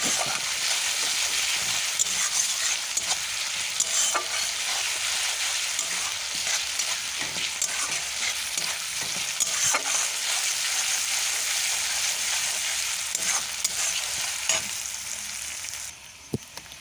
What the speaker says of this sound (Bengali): রসুনটাকে ভেজে নিচ্ছি